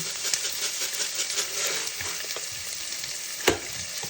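Ginger sautéing in a pot as the base for a Filipino chicken soup with moringa: a close, constant frying sizzle with scattered stirring scrapes and a sharp clink near the end, no speech.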